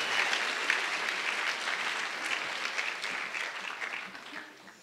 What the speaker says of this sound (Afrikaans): Kom ons klap vir juffrou Daai Willie lekker hande met haar verjaarsdag.